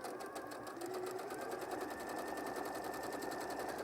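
A sewing machine runs steadily, stitching the line of a pocket into a coat, its fast even needle rhythm continuous and close throughout with no voices over it.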